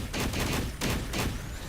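Gunfire from a video game battle, rapid bursts of shots forming a dense, loud volley with a brief gap near the middle, continuous and close with no talking.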